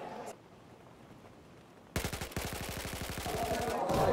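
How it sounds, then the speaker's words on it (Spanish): Gunfire in the Battlefield 4 video game: after a quiet stretch with distant rumble, a loud rapid burst of automatic fire erupts and continues as sustained rattling volleys to the end. "Un poco de ensalada de tiros, hay granadas y todo."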